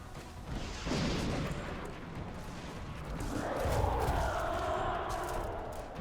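In Long War XCOM, a rocket fired during an Ironman Impossible mission lands with a loud booming blast and a rolling rumble, followed by a lingering roar of debris and background game noise.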